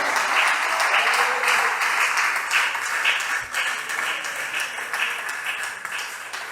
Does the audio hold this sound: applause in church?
yes